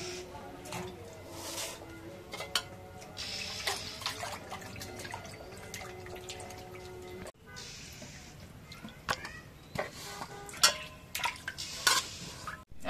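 Katla fish pieces being washed by hand in water in a home kitchen, with continuous splashing, dripping and clinks of a metal bowl, at a moderate, irregular pace.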